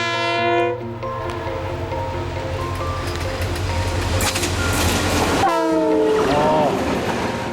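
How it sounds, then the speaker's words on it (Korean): A model train running, with a sustained horn-like tone and steady rolling rumble, later joined by a second whistle blast and rising tonal sweeps, loud and close with no one talking. "모형입니다. 모형 기차예요."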